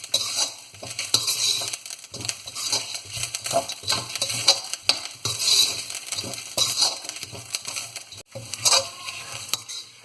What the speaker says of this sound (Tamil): ஸோ இதெல்லாம் போட்டு நல்லா செவக்க வறுக்கணும்.